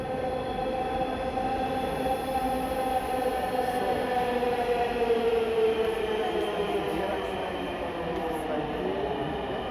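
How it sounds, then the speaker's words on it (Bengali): Dhaka Metro Rail train standing at a station, a steady loud hum and rumble of the carriage running throughout, with faint voices and announcement-like tones over it. "This train is bound for Motijheel."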